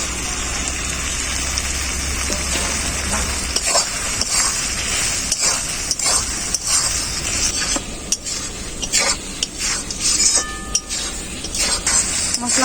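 Fried kudri (ivy gourd) tossed into a pan of sizzling homemade masala and stirred, a steady crackling hiss with intermittent scraping and clinking of the spoon against the pan.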